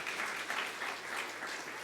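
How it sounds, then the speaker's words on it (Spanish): A church congregation applauds in a steady, dense wash of clapping, moderately distant and sustained, with no voices over it. "Un aplauso a su Señor."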